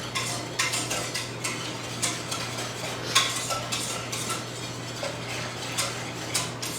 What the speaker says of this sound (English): So I'm just going to probably whisk it a little bit.